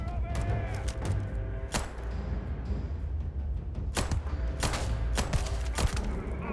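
Gunfire in the game Starfield: sharp, loud shots in scattered bursts over a dense, rumbling combat backdrop.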